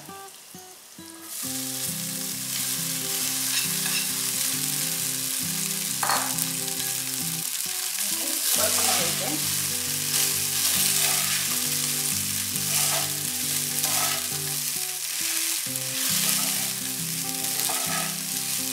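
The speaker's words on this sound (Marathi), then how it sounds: "फक्त राईस मिक्स करताना हलक्या हाताने मिक्स करायचं आहे नाहीतर मोडेल" Cooked rice is gently stirred into cumin and caraway seeds in a hot pan. A continuous dense sizzle and soft scraping run under steady background music.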